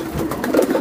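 Racing pigeons in a loft give a brief, loud, close burst of throaty cooing, with no voices over it.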